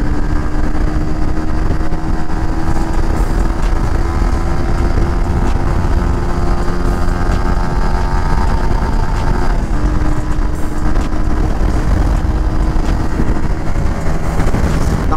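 A Honda CBR 150R, the AP Racing Thailand version, drones steadily while being ridden. The engine hum is loud and continuous for the whole stretch, with wind rush and no voices.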